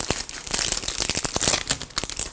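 Crinkly plastic packaging being torn open and crumpled while unwrapping a LOL Surprise doll present, with continuous close, busy rustling and sharp tearing bursts throughout.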